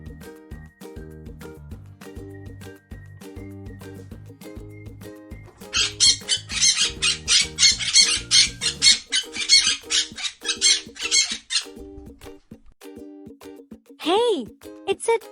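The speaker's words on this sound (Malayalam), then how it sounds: "Hey, it's a talking parrot." Parrot letting out a rapid run of harsh, loud squawks over a musical backing, followed by a short pause and one more burst near the end.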